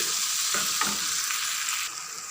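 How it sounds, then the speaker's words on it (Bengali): Spiced mutton curry frying in a pan, with a steady close sizzle throughout and a few soft stirring scrapes; the sizzle drops slightly near the end. "খাসির বুড়িটা রান্না করতে গেলে মশলাটা যত ভাজা ভাজা হইব আর বটটা যত ভাজা ভাজা হইব ততই টেস্ট"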